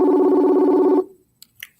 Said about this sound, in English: Oh, you're calling me on my phone.